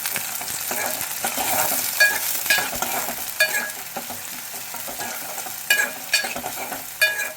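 Onion and prawn curry ingredients stirred in a hot pan, a dense sizzle broken by several sharp scraping spatula strokes, close up and without any voice.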